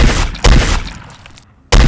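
Loud, sharp gunshots from a video game: one at the start, another about half a second in, and a final blast near the end, with fading rumble between.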